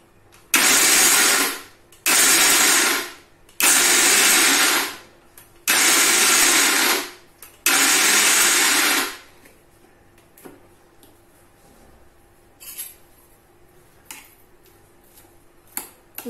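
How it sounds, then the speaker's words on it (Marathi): A kitchen mixer grinder coarsely grinds raw mango chutney with red chilli and garlic cloves in five loud, short pulsed bursts of whirring motor, then goes quiet with small clinks. "व छान मिक्सरला अर्धवट असं बारीक करून घ्यायचं।"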